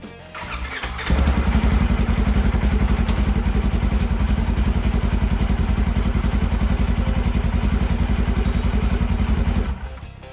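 A Polaris RZR 900 engine starts after a clutch install, catching after about a second and settling into a loud, steady, close idle rumble that runs before cutting off near the end.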